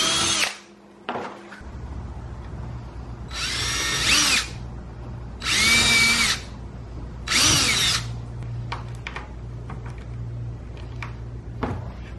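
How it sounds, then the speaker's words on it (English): A power drill pre-drills holes and drives screws through L brackets into a wooden sled for a Maslow CNC ring kit, three loud close whirring bursts with quieter pauses and a low hum between them. "I then pre-drilled holes and screwed in the brackets to the sled."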